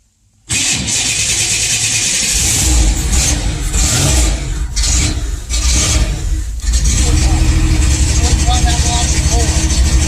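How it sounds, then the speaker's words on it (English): A 1995 Pontiac Firebird with a 3.4L V6, fed carb cleaner through the intake, cranks and fires almost at once, then runs and revs loudly up close for about ten seconds. "We're gonna spray some carb cleaner in the intake directly and see if it'll fire up."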